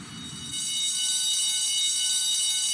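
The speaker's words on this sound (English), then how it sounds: "Guess I'd better check out that alarm." A blaring alarm in Spider-Man 2 kicks in abruptly and holds as a loud, steady electronic ring with a dense buzzing tone, continuous and unbroken to the end.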